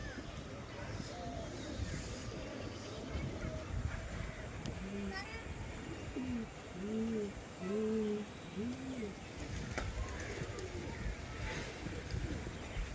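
Domestic pigeons give a few soft, rounded coos in a short run around the middle, heard faintly outdoors over steady background noise near a house where the birds are being released.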